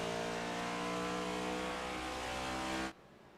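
Race car engines roar in the iRacing sim game as a torn-up Ford Mustang runs with the field, a loud sustained whine with strong harmonics that cuts off abruptly near the end.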